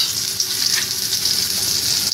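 Bitter gourd fries in a pan with a loud, steady hiss and sizzle that holds evenly throughout, close and uninterrupted.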